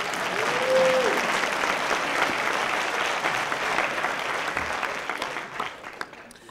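Audience applause after a lecture on Global Africa at MICA, a dense, even wash of clapping from a sizeable crowd that holds steady and tapers slightly near the end.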